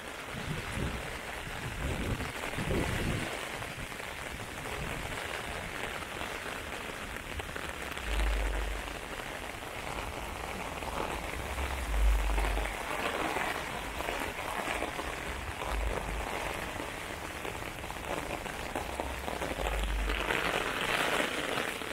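Midnight thunderstorm rain falling on a downtown Toronto street, a steady close hiss of heavy rain on pavement and umbrella with low rumbling gusts, continuous throughout.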